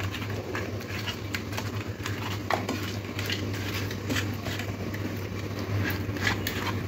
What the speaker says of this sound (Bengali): এরপরে দিয়ে দেব হলুদ গুঁড়ো, নুন, সবশেষে একটু সর্ষের তেল দিয়ে মাছগুলোর গায়ে খুব ভালো করে মাখিয়ে নিতে হবে।